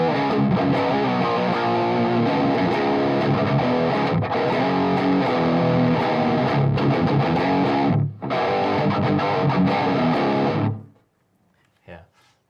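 An electric guitar played through an AMP1 Iridium amp gives a loud, continuous, classic distorted growl of dense chords that cuts off near the end, leaving only faint sound.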